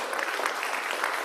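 Congregation applauding during a church service, a brief burst of dense clapping from many hands, moderately loud and even.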